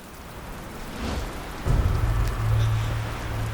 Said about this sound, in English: Guess there's a little rain coming down.